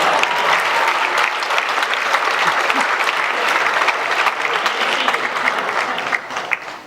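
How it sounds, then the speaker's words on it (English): Audience at a summer special event applauds a competition winner, with a full, continuous burst of clapping that stays strong throughout and fades slightly at the close. "Let's give him a big round of applause."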